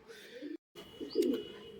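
A pair of high-flying Madras pigeons gives soft, low coos close by, two brief murmuring phrases separated by a short gap, fairly quiet.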